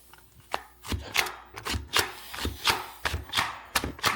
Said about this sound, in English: It's just a blade meat tenderizer.